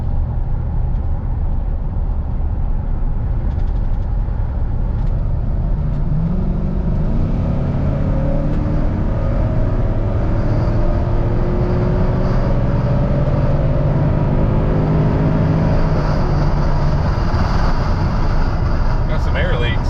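An NBS Stepside truck accelerates hard at full throttle, its loud engine roar climbing steadily in pitch as it pulls for the whole stretch, heard from close by.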